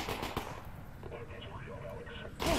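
Gunfire in the video game Half-Life: Alyx, a few faint, distant shots and rumbling bursts under a noisy game background, with a player's voice heard briefly.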